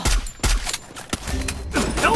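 Sniper gunfire in the Free Fire mobile game, with several loud sharp shots spaced through a short burst, each a hard crack with brief decay and faint game sounds between them.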